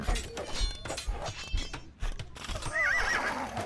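Horses in a video game: galloping clip-clop hoofbeats and short thuds, followed by a loud whinny near the end, all close and clear with no talking.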